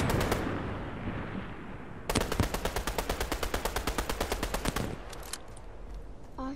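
Rapid automatic gunfire in a video game, a fast, steady burst of about two dozen evenly spaced shots lasting nearly three seconds, preceded by quieter rumbling and followed by a few scattered shots.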